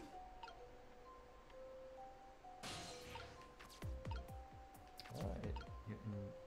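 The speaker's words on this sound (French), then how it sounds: "Ah, il y a de l'eau qui dégoûte" Water drips in the Ghost Trick video game: sparse, crisp droplet plinks over a quiet musical hum, followed by a louder splashy burst and several quick drips toward the end, with a voice speaking softly.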